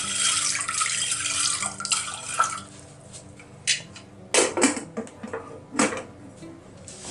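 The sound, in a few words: water poured into a pot of beans for boiling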